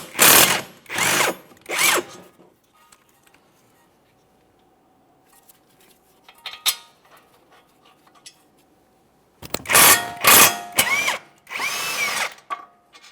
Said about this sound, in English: The caliper bracket bolts are 17mm headed bolts, so we can start removing the upper bolt.